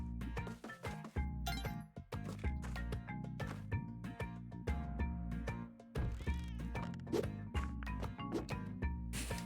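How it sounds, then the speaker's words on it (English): Cat meows from the video game Spelunky 2 ring out over busy, continuous game music, with no talking. "Kitty."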